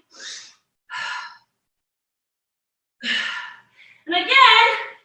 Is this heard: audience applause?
no